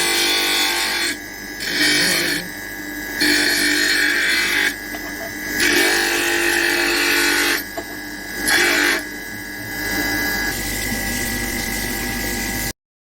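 Dental model trimmer grinding a plaster cast, a loud close whirring motor with wet grinding that swells in repeated bursts as the cast is pressed against the wheel, alone without talk.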